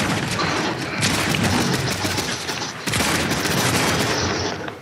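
Fortnite Chapter 4 Season 3 gunfire rattles in sustained loud bursts, dense rapid shots with a short break near the three-second mark before resuming.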